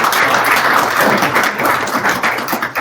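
An audience at a talk on innovative teams gives a round of applause, a loud, dense and continuous wash of many hands clapping close by.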